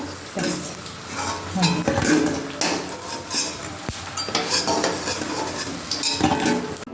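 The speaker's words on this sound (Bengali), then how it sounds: "এইগুলো না একটু নরম হয়ে গেছে এগুলো আর একটু ভেজে নিই" Lentil fritters (bora) re-frying in a pan to crisp up, soft sizzling under clattering utensil scrapes and clinks against the pan, close by, with faint voices in the background.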